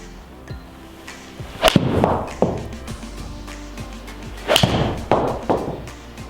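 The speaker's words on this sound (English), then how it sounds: "there I've hit you 5 shots with the Callaway Apex 4-iron, 6-iron and 8-iron" Two Callaway Apex forged irons strikes from the 4-, 6- and 8-iron, each a sharp close crack followed by a brief thud and rustle, spaced a few seconds apart with quiet outdoor ambience between.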